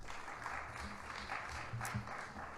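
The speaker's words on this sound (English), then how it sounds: "Please give Scott a round of applause." Audience at a university pitch-competition event giving a round of applause, a moderate, fairly distant wash of clapping with a low murmur beneath.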